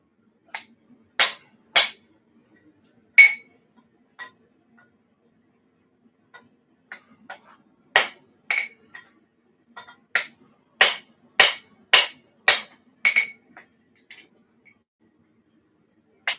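Sharp metallic strikes of a hammer on an anvil, sounding in irregular bursts: a few isolated blows, then a rapid run of evenly spaced ringing hits, close and crisp with silence between.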